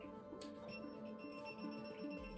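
A small handheld electric field detector beeps rapidly beside a switched-off lamp, a faint high-pitched tonal alarm pulsing in quick succession near the microphone.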